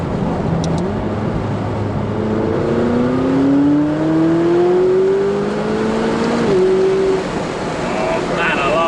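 A McLaren 570S Spider sports car accelerates, its loud engine note climbing steadily in pitch through a long pull before a shift and another rise, all under a constant rush of road and wind noise.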